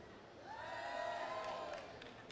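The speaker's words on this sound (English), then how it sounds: "We're going to get the crowd to cheer for their winner." An audience at the MCM Scotland convention gives a costume contest entrant a moderate cheer with a few whoops. The cheer rises and fades within a couple of seconds and sounds somewhat distant.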